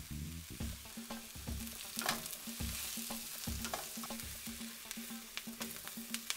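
Mushrooms sauté in a pan, a quiet, close sizzle broken by rhythmic scraping strokes of a utensil stirring them every half second or so, with no voices.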